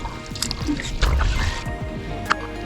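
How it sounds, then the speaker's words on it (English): Water sloshing and swirling around a kayak at a beach where a whale surfaces nearby, close and steady with soft drips and splashes, while a person talks over it. "Lots of water swirling around us."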